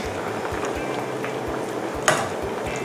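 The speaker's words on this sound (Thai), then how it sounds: "เราก็จะนำเนื้อปลาช่อนนะคะลงไปต้ม กดเนื้อปลาลงไปนะคะให้น้ำกะทิท่วมนะคะ" Snakehead fish fillets simmer in coconut milk, a continuous bubbling boil close by with a brief clink of a utensil partway through.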